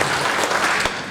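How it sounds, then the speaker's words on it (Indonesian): Church congregation clapping hands during a worship service, a short dense burst of applause filling the room at steady loudness. "Yang katakan pasti boleh tepuk tangan."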